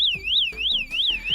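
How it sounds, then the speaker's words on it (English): A scooter bag's motion alarm on a Piaggio Liberty 150cc sounding off, a loud close electronic siren rising and falling in repeated sweeps, alone without voices. "then it's gonna give an alarm."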